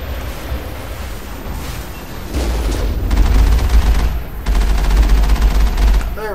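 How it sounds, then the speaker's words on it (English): Loud, sustained automatic gunfire from the player's weapon in Mass Effect, coming in two long bursts separated by a short pause, with heavy booming low end and battle noise throughout. "Why am I shooting so high up?"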